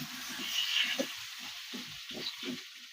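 Pointed gourd and potato pieces fry together in a pan, a faint, steady sizzle with soft, irregular low bumps from stirring underneath and no one talking.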